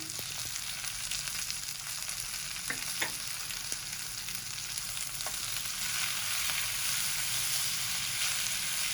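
Half-inch pieces of green chilli cook with salt and tamarind pulp in a pan, producing a constant soft sizzle with a few light clicks of stirring, unbroken by speech.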